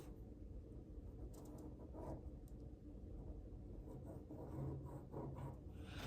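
A pen draws a line across paper while marking a cut for a 16x20 wall picture made from a photo, giving a soft continuous scratch under low room rumble.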